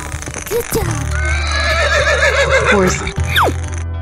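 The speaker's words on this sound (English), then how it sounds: "Horse." A horse neighs in a children's animal cartoon, a loud, quavering whinny running for about two seconds, framed by short bursts of excited cartoon voices and sound effects.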